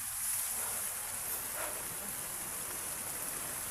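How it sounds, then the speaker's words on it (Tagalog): Heavy rain pours down in a steady, dense hiss that stays even throughout, fairly close and with no one speaking. "Kasi yung ulan na malakas."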